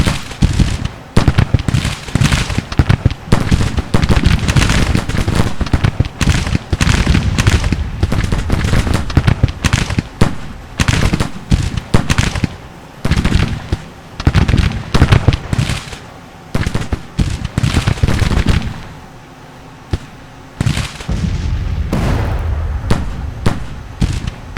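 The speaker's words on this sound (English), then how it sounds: "May not be artillerymen when they're firing canisters." Civil War artillery in Grand Tactician blasting canister shot, a long, dense barrage of loud sharp cracks and booms overlapping almost continuously, with a short lull near the end before the firing picks up again.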